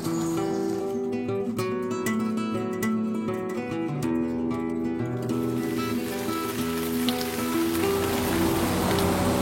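Rain falling around a cyclist arriving in Toulouse, a steady patter of drops hitting surfaces under a constant wash of noise, with music-like tones running through the first half.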